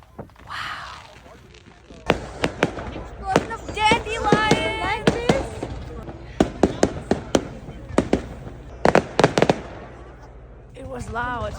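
Fireworks burst in a display, with a scattered run of sharp cracks and booms, some crackling clusters, heard at moderate distance while people talk and react over the noise.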